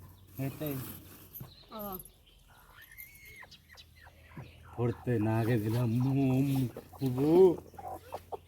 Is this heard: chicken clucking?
yes